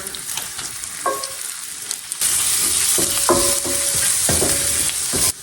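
Onion and garlic frying in oil and butter in a pan, a loud continuous sizzle with stirring scrapes and clinks of a utensil against the pan, no voices.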